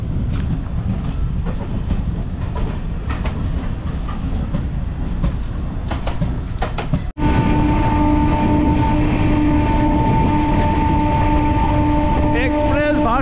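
An express train runs on rails past Bidhannagar, a loud steady rumble with rhythmic clatter of wheels. A sudden jolt partway through brings a louder, harsher roar with tonal squeal, and a voice speaks briefly.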